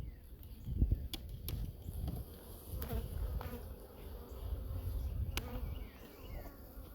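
Honey bees buzzing around hive frames during a hive split, a low, fluctuating drone with occasional sharp taps and knocks from handling the frames, no talking.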